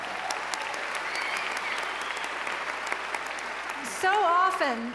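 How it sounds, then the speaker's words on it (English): Audience applause at a Biennial of the Americas event, a dense, steady wash of clapping from a crowd that runs throughout, with a voice speaking over it near the end. "Yes, applaud for that, please."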